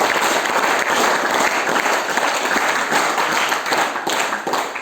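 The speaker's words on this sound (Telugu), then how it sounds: "you please give a big clap" A large audience bursts into loud, sustained applause at a Republic Day celebration, dense clapping filling the whole stretch at close range before easing slightly near the end.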